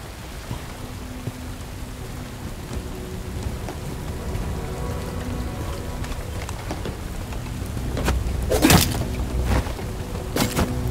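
Steady rain pouring in the video game Bright Memory Infinite, a dense continuous hiss of drops on surfaces, with a louder burst of heavier noise near the end.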